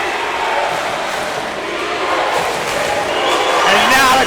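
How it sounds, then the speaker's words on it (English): High school basketball crowd in a packed gym roaring loudly after the score is tied, a dense, continuous wall of cheering and yelling that swells near the end, with an announcer talking over it. "And now the crowd is back into it. Woo, boy, it's loud"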